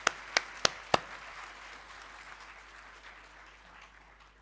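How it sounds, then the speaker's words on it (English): A few sharp claps ring out at a university convocation, then fade into a soft, diffuse wash of crowd noise with no voices. "So let's give ourselves a round of applause."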